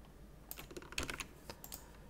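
Code typed on a computer keyboard, a quiet, irregular run of close key clicks in small bursts, with no voices.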